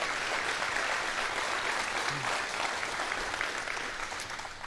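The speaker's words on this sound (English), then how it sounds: "Can we do one more round of applause for our panel, please?" A room of attendees at a community meeting on the Lookout Fire in Oregon's Willamette National Forest gives the panel a dense, sustained round of applause that stays steady and fairly loud before tapering slightly at the end.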